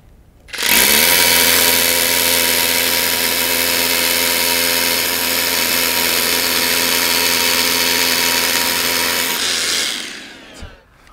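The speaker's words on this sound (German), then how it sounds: "Und hier habe ich jetzt ein komplett mobiles System, um staubfrei auf der Baustelle zu bohren." A Hilti drill bores into a concrete floor on a building site with dust extraction attached, running as one loud, steady whine for about nine seconds before it stops.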